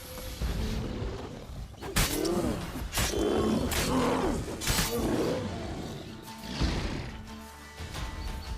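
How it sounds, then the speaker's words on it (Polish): A bear roars in The Witcher 3, a series of deep, ragged growling roars close by, rising and falling over several seconds with brief pauses between bursts. "Niedźwiedź."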